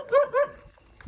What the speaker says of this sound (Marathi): कॅमेरा हे बघ सगळं डॉबरमॅनच आहे